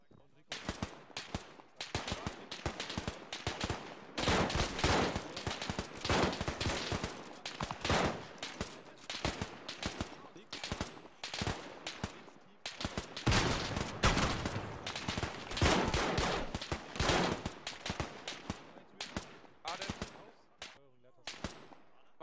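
Sustained gunfire in the military video game Arma 3, bursts of automatic fire and repeated shots crackling almost continuously with brief gaps, loud and dense; some speech is mixed in.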